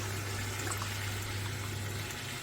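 Water pours steadily into a pot of soaked rice for Moradabadi chicken biryani, a continuous, fairly faint splashing stream with no talk.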